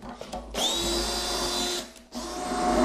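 A power screwdriver drives a screw into a wooden wine barrel being built into a dog kennel, two loud whirring bursts separated by a short pause, close to the listener.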